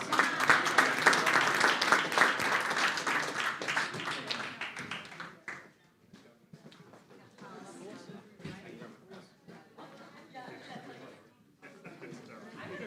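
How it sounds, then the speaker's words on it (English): Applause from attendees at a school board of education meeting, strong for about five seconds before fading into scattered claps, chatter and light laughter. "One more round of applause."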